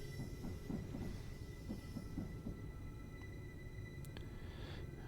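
A train crawls slowly into a station in Train Simulator 2022, with low rumbling, soft rhythmic wheel clicks and a faint squeal, quiet and steady without talk.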